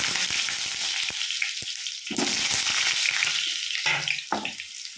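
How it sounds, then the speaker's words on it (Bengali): Potato pieces fry in hot mustard oil with a loud, dense, close sizzle and crackle, interrupted by stirring clicks and short bursts of spattering, and no one talks. "তেলটা গরম হয়ে গিয়েছে, আলুগুলোকে আমি ভেজে নেব।"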